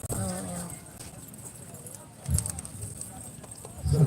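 Horse hooves clip-clop faintly in the background while people talk nearby, with a few louder thumps standing out.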